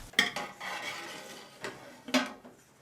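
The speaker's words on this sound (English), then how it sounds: "There's food being cooked here in the kitchen on the woods." Cookware and utensils clatter in a household kitchen while customary food cooks over a wood fire, with a few sharp clinks standing out above a soft, continuous background of stirring and handling, close by and moderately quiet.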